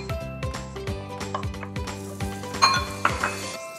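Oatmeal toasting in butter in a pan, with a spoon repeatedly clinking and scraping against the metal in a quick rhythm over a faint sizzle, close and clear.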